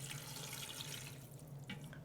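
Chicken broth or water is poured into an Instant Pot for a Greek lamb and greens stew, a steady close splashing rush of liquid that stays even for about two seconds.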